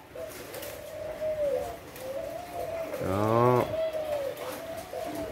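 A newly imported Thai red-spotted dove with a black neck collar coos steadily about ten centimetres away, a low rolling call with a person speaking briefly over it.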